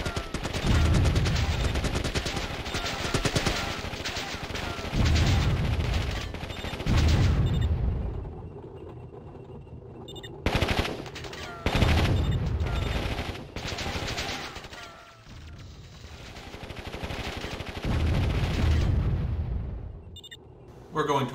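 Warzone 2100 battle with units under attack: bursts of gunfire and explosions come in repeated loud waves, with brief lulls, under a voiced game announcement.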